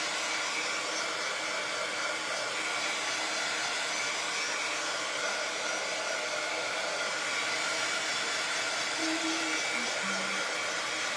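A hair dryer blows steadily and loudly for the whole stretch, drying paint on a handmade primitive wooden sign kit, with no talking.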